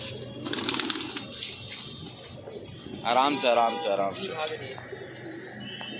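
Pigeons, newly bought brown and white birds, coo and flutter close by under a voice speaking Hindi.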